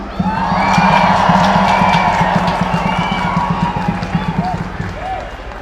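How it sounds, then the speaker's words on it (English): A large outdoor crowd at a London march for Palestine cheers, whoops and claps, a loud, sustained roar with shouting voices and a rhythmic pulse underneath, gradually easing off toward the end. "Please give a round of applause for Miriam"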